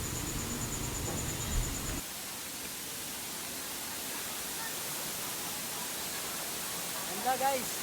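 A waterfall in Rizal rushes as a broad, steady roar that fills the whole stretch, with a voice talking briefly over it at the start and again near the end.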